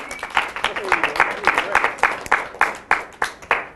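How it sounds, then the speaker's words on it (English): A workshop audience claps for a guest, with many hands striking in a brisk, uneven rhythm of distinct claps; a brief voice is heard early on. "Can we have some applause for MG?"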